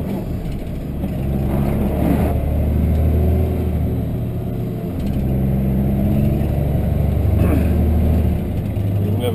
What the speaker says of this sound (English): You never go over speed humps in any other tractor smoother than this.